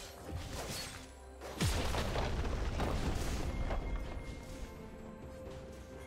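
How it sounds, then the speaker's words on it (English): A turret is destroyed in League of Legends with a heavy boom that breaks out at about 1.6 seconds, followed by a crashing, rumbling blast over steady game background sound, loud and close. "Red team's turret has been destroyed."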